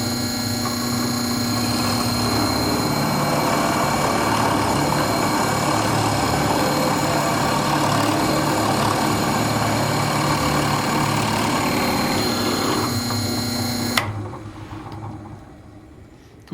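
A hand-sharpened 1/2-inch spade drill bit from around 1978 bores into wood under a steady, loud whine that runs continuously for about fourteen seconds, then cuts off abruptly and leaves only faint room noise.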